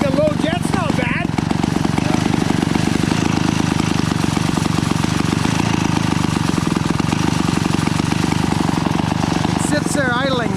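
A Pioneer 650 chainsaw being revived idles on its own, a loud continuous close-up engine putter with a steady rhythmic throb, while a person talks over it.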